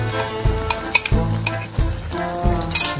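Tomato and zucchini pickle mixture being stirred in a cooking pot, with repeated loud scraping strokes and clinks of a utensil against the pot at close range, plus a low sizzle underneath.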